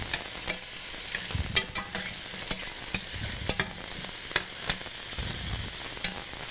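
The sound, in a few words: stirring and sizzling mushrooms in a pan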